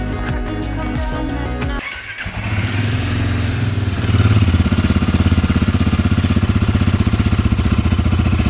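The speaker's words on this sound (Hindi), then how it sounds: "एग्जॉस्ट का जो साउंड था ये शोरूम के अंदर का था" A Royal Enfield Himalayan 450 motorcycle exhaust idles and then revs inside a showroom, a loud close throbbing rumble that steps up in intensity partway through and holds steady.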